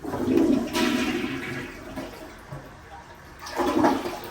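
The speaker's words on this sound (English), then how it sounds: "Oh, look, it's one of these fancy toilets." A modern toilet in a house downstairs flushes with a loud rushing surge of water, easing into a quieter swirl and then a second strong gush near the end, with no talking over it.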